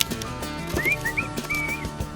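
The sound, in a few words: whistling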